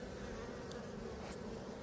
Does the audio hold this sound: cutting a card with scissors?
no